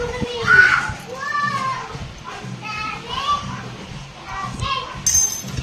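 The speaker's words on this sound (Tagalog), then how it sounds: "Maingay yung mga bata naglalaro." Children play noisily nearby, their high shouts and chatter running continuously under a home kitchen scene while breakfast is being made.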